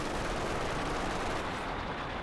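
An MG42 machine gun fires in a World War II strategy video game, a loud, dense, continuous burst of rapid gunfire with explosive rumble filling the whole moment.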